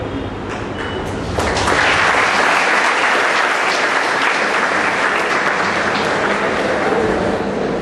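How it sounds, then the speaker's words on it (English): Audience applause at a college project exhibition event, a dense, steady wash of clapping that swells louder after the first second and holds full and even throughout, with no talk over it. "It's nice to clap for that"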